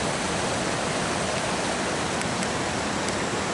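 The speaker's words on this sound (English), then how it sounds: "Literally waterfalls raining down" Dense, steady rush of falling water, a constant broadband roar with no pauses or voices.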